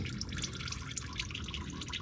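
Engine oil draining from a Toyota Camry SE 3.5L V6 during an oil change, a faint continuous trickle with soft dripping and splashing, steady and close.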